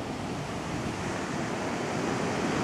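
Waves of a rising evening tide wash onto the shore in a steady, dense rushing surf, fairly close and continuous with no voices.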